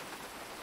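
Rain falling outdoors, a steady, dense patter of drops across the whole short moment with no pauses and no voices.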